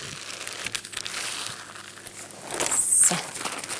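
Baking paper crinkles and rustles as it is pulled across a rolled lemon sponge cake, close soft scraping and crackling that grows a little louder near the end.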